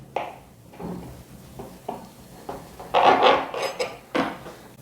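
A utensil cuts into a carrot cake in a metal baking pan, making a series of short scraping and clinking knocks, with a louder stretch of scraping toward the end and no talking.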